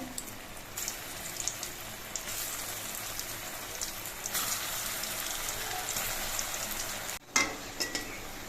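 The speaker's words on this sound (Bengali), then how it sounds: "একইভাবে আমি বাকি কোপ্তাগুলো ভেজে নিচ্ছি" Banana koftas deep-frying in hot oil for a vegetarian dish, a steady dense crackling sizzle running throughout, with a brief drop near the end followed by a few louder splutters.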